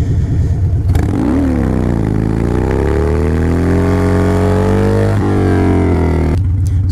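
Harley-Davidson Dyna motorcycle engine revving hard during a wheelie attempt, a loud close rumble that climbs in pitch, holds a sustained roar for several seconds, then drops back to a lumpy idle.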